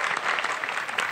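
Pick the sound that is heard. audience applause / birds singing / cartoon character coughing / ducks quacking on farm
audience applause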